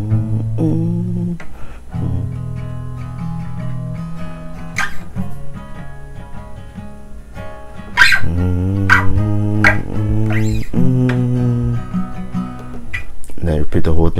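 Guitar strums through the verse of a song with steady chords and occasional sharp accents, close and fairly loud, with no voices over it.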